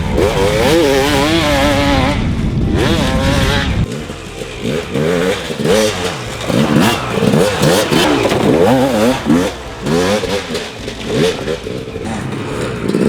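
A 2007 Yamaha YZ250 two-stroke dirt bike engine revs loudly and close up, rising in pitch through repeated throttle blips and crackling two-stroke bursts, with no talk.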